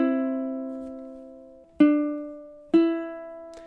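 Plucked ukulele notes from the melody of a song: one long ringing note, then two more plucks about a second apart, clear and close with no voice.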